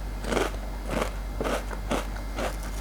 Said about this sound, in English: I just feel like keep putting the chips in my mouth and just keep chewing and just keep crunching on that crunchy chips